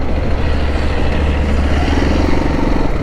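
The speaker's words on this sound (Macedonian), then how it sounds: "Моторот да го паркирам бар" A motorcycle engine rumbles loud and close as the bike is brought to a stop for parking, a dense, continuous drone mixed with wind-like noise.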